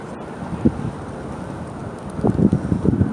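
Wind buffeting a microphone outdoors on an autumn walk in Portland, low rumbling gusts that swell near the end, with no talking.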